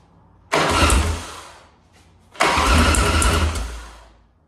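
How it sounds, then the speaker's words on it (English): A rebuilt 100-inch Shovelhead motorcycle engine cranked on its starter button twice: each attempt a loud, close burst of starter whir and engine churn that fades over about a second and a half, with a brief pause between the two tries. "I can use the starter button up top, or I can use the starter button on the end of the starter."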